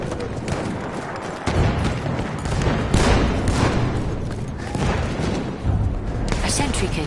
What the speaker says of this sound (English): Tossing a grenade!